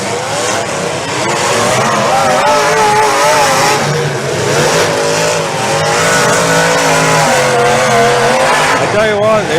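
Demolition derby cars rev their engines hard in an outdoor arena, a continuous loud roar of several motors at once, with announcer talk running underneath.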